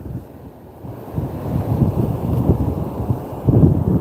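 Strong wind buffeting the microphone on Pensacola Beach in Florida, a steady low roar that surges in gusts with faint surf underneath, no talking.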